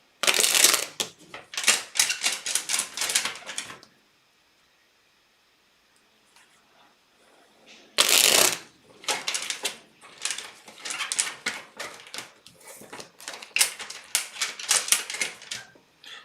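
A tarot deck shuffled by hand, two bursts of crisp riffling card flutter, loud and close, separated by a few seconds of near silence.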